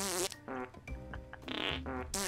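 A run of loud, close, buzzy farts in several rough bursts of different lengths, one after another, with no talking.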